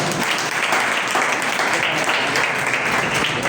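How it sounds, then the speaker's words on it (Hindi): Loud, steady applause from a church congregation during a Hindi-language Easter sermon, dense sustained clapping filling the whole moment without a break. "इस बात के लिए जोरदार ताली बजाएं"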